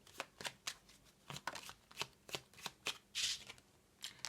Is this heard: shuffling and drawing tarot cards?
yes